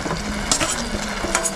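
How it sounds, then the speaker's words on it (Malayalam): Fried prawns tipped into an onion and green chilli masala in a pan, a soft steady sizzle with scraping stirs and a few light knocks against the pan. "അപ്പോൾ അതിലേക്ക് നമ്മൾ ഇനി നമ്മൾ ചെമ്മീൻ നമ്മൾ ഫ്രൈ ചെയ്ത് വെച്ച ചെമ്മീൻ അതിൽ ആഡ് ചെയ്യാൻ പോകണം കേട്ടോ"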